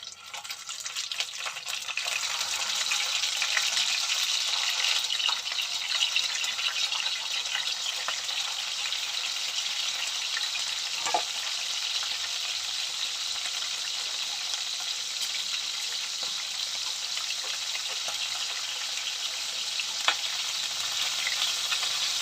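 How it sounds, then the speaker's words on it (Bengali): Large prawns fry in a pan for a prawn malai curry, a loud continuous sizzle that runs steadily throughout with scattered faint pops and spatters, and no one speaking. "তাহলে এবার বন্ধুরা মাছটাকে একটু ভেজে নেই।"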